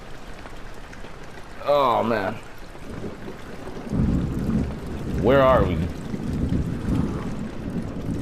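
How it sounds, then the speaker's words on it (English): Low rumbling thunder and steady rain in the horror game Amnesia, with a person speaking briefly over the storm; the rumbles swell twice. "It's raining outside. It's thundering."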